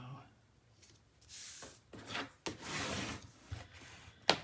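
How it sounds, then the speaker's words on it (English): Paper is burnished onto a mini album panel with a tool, giving several close dry rubbing strokes of uneven length, separated by short pauses and ending in a sharp tap. "Burnish that in there really good."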